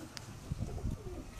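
Pigeons coo from a rooftop loft, low soft throaty calls repeating a few times at close range over faint background noise.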